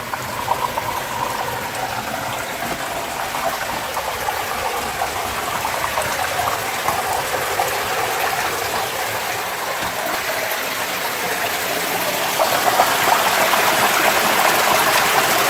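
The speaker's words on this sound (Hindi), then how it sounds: "यहाँ पता नहीं किस कोने से पानी की जल धारा बहती आ रही है।" A stream of water rushes through a cave near Baijnath, Paprola, giving a steady, loud, close roar that swells slightly toward the end with no voices.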